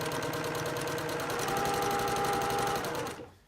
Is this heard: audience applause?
no